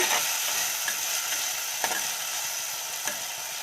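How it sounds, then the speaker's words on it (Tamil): A pan of spicy fish curry base with onions is stirred while it fries. A steady loud sizzle runs throughout, broken by a few faint scrapes of the spoon. "இப்போ இது நல்லா மிக்ஸ் பண்ணிக்கலாம்"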